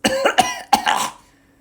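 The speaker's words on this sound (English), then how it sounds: "Bulwark coughs again" A few sharp coughs close up, three bursts in quick succession, fading into a faint hum.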